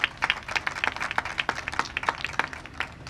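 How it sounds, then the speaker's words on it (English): Applause from an audience at a New York affordable housing construction announcement, dense clapping with sharp individual claps standing out, fairly close and moderately loud throughout. "let's give a round of applause to Paul Adler"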